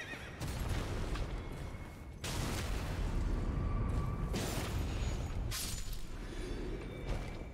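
Horse neighs and whinnies in Elden Ring, sounding as loud, broad bursts over a dense bed of game noise, with clanks and mechanical clatter mixed in across the stretch.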